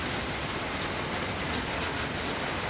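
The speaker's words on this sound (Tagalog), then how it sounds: "Ayan, ngayon umulan ngayon." Steady rain pours down during a typhoon, a dense, even hiss of drops on surfaces that holds at the same level the whole time, with no voices.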